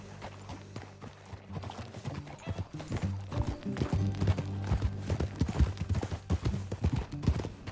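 Horse hooves clip-clop in Red Dead Redemption, a quick, even run of close hoofbeats that grows louder and busier as it goes on, over a low, steady background drone.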